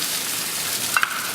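Bread fries in bacon fat on a Eurostoves Culinarian griddle, a steady, close sizzle with a couple of brief scraping taps near the end.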